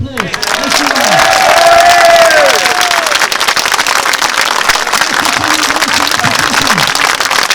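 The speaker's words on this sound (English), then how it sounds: "I think they deserve a round of applause" Outdoor crowd in Rotherham town centre at a street rally, loud applause and cheering that swells early and carries on steadily, with a whistle-like tone near the start and scattered voices mixed in.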